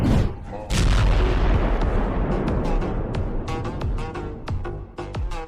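Gunfire and a loud explosion in an action film scene: a heavy boom opens, followed by rolling rumble and a scatter of sharp shots and bangs of varying distance continuing to the end.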